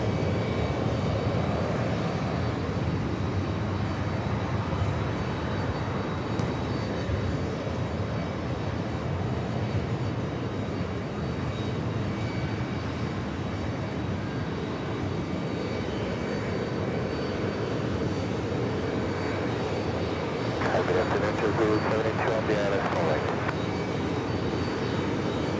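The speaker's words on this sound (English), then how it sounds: "That American 777 at short final for 4 right." An American Airlines Boeing 777 jet on short final to runway 4 right at JFK gives off a steady, broad engine roar that holds throughout, with a faint higher whine entering near the end.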